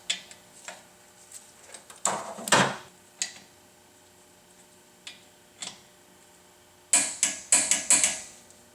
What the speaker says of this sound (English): Now we're going to take the torque wrench and we're going to go ahead and tighten the caliper to the caliper mount to 74 foot-pounds.